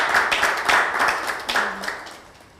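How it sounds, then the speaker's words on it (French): A studio audience at a French talk show claps and cheers, starting strong and close, then thinning and fading toward the end. "On applaudit."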